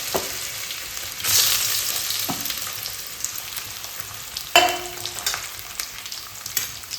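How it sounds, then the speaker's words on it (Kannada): Chopped potatoes drop into hot oil with curry leaves and fry, a steady sizzling hiss that swells when they go in, with a few spoon scrapes and clinks, no voices. "ಆಲೂಗಡ್ಡೆ ಹೆರ್ಜಿಟ್ಕೊಂಡಿದ್ವಲ್ಲ, ಸೊ ಅದನ್ನು ಹಾಕ್ತೀನಿ ಈಗ ಎಣ್ಣೆ ಒಳಗೆ"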